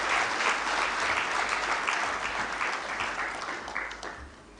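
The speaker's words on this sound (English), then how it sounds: "A round of applause." An official meeting applauds the ratification of the Nairobi communique. Dense, sustained clapping from a large crowd fills the room and fades slightly toward the end.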